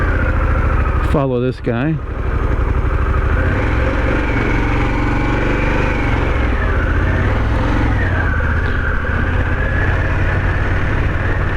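A Harley-Davidson Pan America motorcycle rides in road mode, its engine a steady close drone throughout with shifting pitch, while a person speaks briefly near the start.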